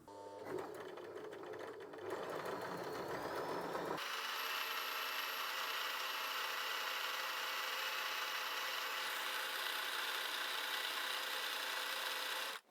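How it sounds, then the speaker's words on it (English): Sewing machine stitching belt loop keepers for pants, preceded by a few seconds of handling, then a steady, loud continuous motor whir running without pause for about nine seconds. "line it up and start sewing"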